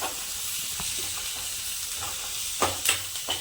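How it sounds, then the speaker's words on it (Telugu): Onions fry in a hot pan for a tomato curry, giving a steady close sizzle and hiss, with a few sharp scraping knocks near the end. "ఇదిగో ఉల్లిపాయ కూడా వేస్తున్నాను"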